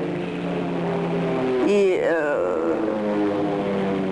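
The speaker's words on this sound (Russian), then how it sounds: "Летят 3 самолета" Propeller aircraft, three planes in a wartime bombing raid over a railway station, drone overhead as a steady low engine hum running through the whole stretch beneath a voice speaking.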